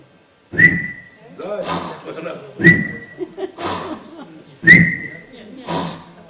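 A man makes sharp whistling sounds through his nose: three short, bright whistles with pauses between them, each followed by bursts of talk and laughter close by.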